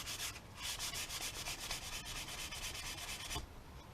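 Sandpaper rubs back and forth along a wooden axe handle in steady, rapid strokes, a close, continuous rasping that stops abruptly near the end.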